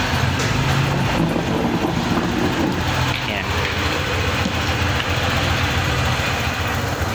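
A Honda ADV150 scooter engine runs at idle close by, a steady loud drone with a fitted wiring harness, LED lights and horn nearby, while someone speaks briefly over it.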